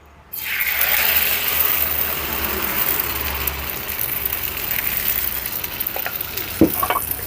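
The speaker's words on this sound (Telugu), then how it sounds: "ఇప్పుడు మనం తీసుకున్న ఈ పానికి సగం వరకు పిండి పోసుకుందాం" Semolina bun dosa batter poured into a small oiled pan, bursting into a loud sudden sizzle that settles into steady crackling frying, with a couple of sharp clinks near the end.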